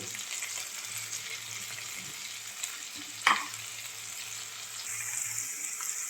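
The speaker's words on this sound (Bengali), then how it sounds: "আলুটাকে আমি লাল করে ভেজে নেব" Potatoes fry in hot oil with a steady close sizzle, a low hum running underneath and one sharp scrape or clink partway through, no talk.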